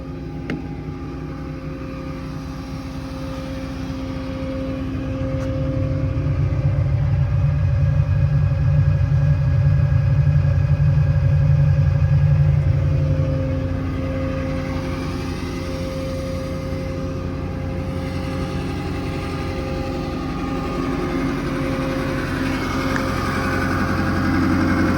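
A truck-mounted air compressor on a 2023 Ford F550 diesel mechanics truck runs steadily with a low, even rumble and a faint hum, swelling somewhat louder for a few seconds midway before settling back to a smooth drone.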